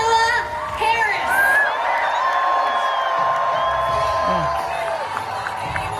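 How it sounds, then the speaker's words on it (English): A large crowd at a Kamala Harris rally cheers and whoops steadily, a dense sustained roar with scattered shouts rising above it and no break. "There's an awfully big crowd there, even though it is a meeting."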